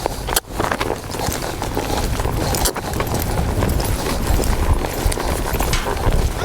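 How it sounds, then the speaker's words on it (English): A bay colt loping around a pen under his first saddle, hooves clip-clopping in a steady, fairly close rhythm over continuous background noise, with no talking. "That bay horse is loping around there, is focused on moving him."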